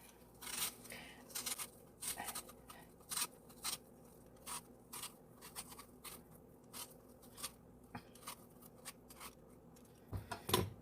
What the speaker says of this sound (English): the first thing that you need to do is peel and chop an apple.